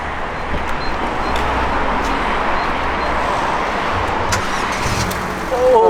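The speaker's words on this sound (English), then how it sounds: "Now just start the car. See if it starts." A Ford Fiesta Mk7 1.4 engine turns over and catches after a spark plug change, then settles into a steady idle rumble with broadband noise throughout.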